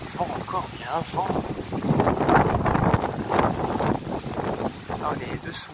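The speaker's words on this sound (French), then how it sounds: "Alors, le vent encore, il y a un vent." Strong, gusty wind roars across the microphone during a thunderstorm in Meyzieu, a loud sustained rumble that swells and eases, with someone talking over it.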